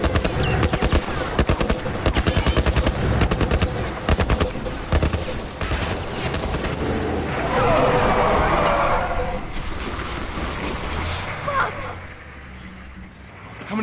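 Rapid bursts of automatic gunfire from The Last of Us video game, loud and dense in the first half, then thinning into scattered shots and fading, with voices faintly present.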